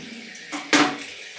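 A bathroom tap runs steadily at close range to wet a head before shaving, with a brief louder surge of splashing water partway through.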